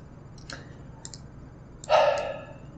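A computer mouse is plugged in: a few light plastic clicks, then a brief louder scrape and snap as the connector seats, close and quiet.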